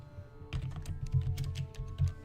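A computer keyboard being typed on during a PC game session, a quick flurry of close, uneven key presses that starts after a brief quiet moment, over a steady low hum.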